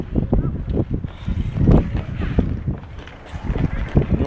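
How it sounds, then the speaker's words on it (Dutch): Strong, gusty wind roars across an open outdoor spot by the Reitdiep where people are skating, buffeting the microphone in uneven low rumbling bursts that never let up. "staat een gigantische harde wind."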